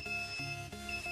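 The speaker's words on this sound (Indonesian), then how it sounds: "alarm pun berbunyi" A custom alarm on a Suzuki Satria FU FI motorcycle sounds a steady, piercing electronic buzz with faint pulsing beneath it, close and unbroken.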